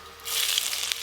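Five-spice tempering and a dried chilli sizzle in hot mustard oil, a steady close hiss that swells after a brief quiet start, with a few small spits, for Bengali doi bhindi.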